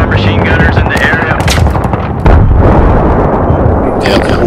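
Battlefield 3 machine gun fire on Kharg Island, dense rapid bursts and booming blasts close by, with a voice speaking over the gunfire.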